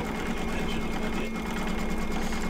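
Embroidery machine stitching an in-the-hoop project, a steady mechanical hum with a rapid rattling rhythm running loud and unbroken throughout.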